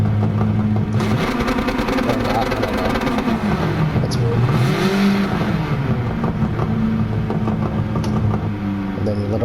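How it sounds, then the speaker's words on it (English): A Honda Civic Type R FK2 idles with launch control held for a drag start, a steady close engine drone with some revving and people talking over it. "We'll do a Honda Civic drag start."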